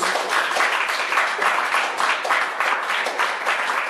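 Church congregation applauding for Jesus during a Portuguese-language service, a steady dense wash of clapping filling the whole stretch without a break, fairly loud and close.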